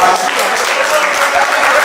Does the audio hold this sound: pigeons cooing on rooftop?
no